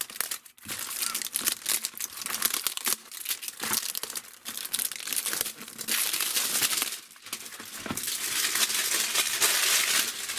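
Plastic shrink wrap being torn and peeled off a Japanese Pokemon booster box, loud close crinkling and crackling in bursts with brief pauses, continuing steadily for several seconds.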